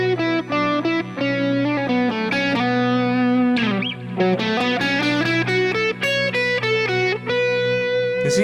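Electric guitar run through effects and distortion, playing melodic lines that weave around a triad's chord tones, a sustained stream of bright, overlapping notes with brief bends, no talking.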